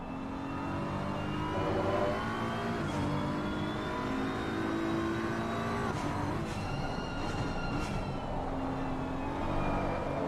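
GT3 race car from a racing video game at Watkins Glen, engine droning and revving continuously at high volume, with shifting pitch and gear changes throughout, no talking.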